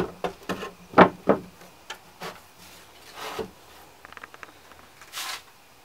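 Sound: wiping wood with a tack cloth

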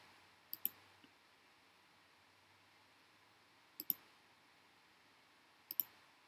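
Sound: computer mouse clicking

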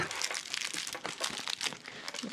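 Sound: crinkle pet toy being handled

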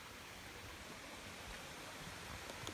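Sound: distant waterfalls at Saharna

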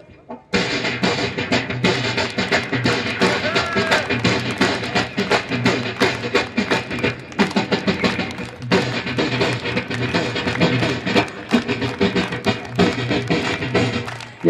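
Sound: voice imitating Punjabi dhol drum

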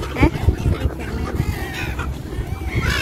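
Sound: seagulls calling at Bang Pu seaside resort

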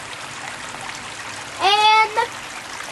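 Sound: water trickling into a garden pond

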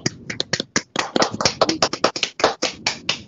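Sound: round of applause, clapping

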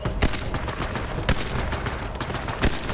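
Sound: gunfire in the video game Borderlands 3

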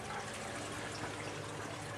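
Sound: garden bed siphon flushing water

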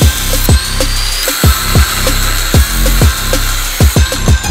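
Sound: angle grinder cutting thick iron plate

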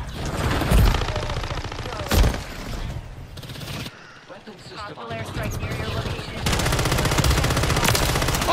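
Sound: gunfire in Modern Warfare 3 video game

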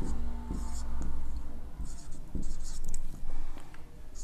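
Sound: pen writing, drawing a perpendicular line

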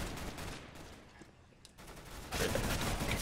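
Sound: gunfire in video game CS:GO

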